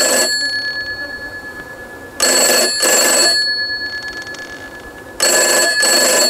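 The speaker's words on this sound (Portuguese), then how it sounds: "Telefone desgraçado." Phone ringing in the horror video game From Day To Day: bright electronic rings in bursts of two pulses, repeating roughly every three seconds over a steady high-pitched room hum, loud and close, no talking.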